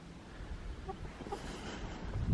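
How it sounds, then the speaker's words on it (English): A buff Orpington rooster gives a few soft, brief clucks in an outdoor farmyard on a snowy day, faint against a low background rumble. "This is our buff Orpington rooster."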